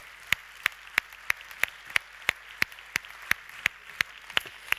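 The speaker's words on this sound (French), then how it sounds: "je vous propose d'applaudir les nommés de l'année pour commencer" Clapping for the year's nominees at a business awards ceremony in Puy-de-Dôme, France: sharp, evenly spaced claps in a steady rhythm of about three per second, moderately quiet, with no voices.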